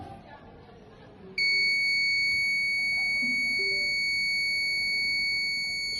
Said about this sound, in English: when it got close to the threshold distance, the buzzer started beeping